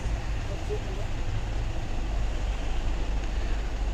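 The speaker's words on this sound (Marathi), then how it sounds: "ट्रेन आता निघालेली आहे." A steady low rumble and rattle of a moving train, continuous throughout, with a faint murmur in the background.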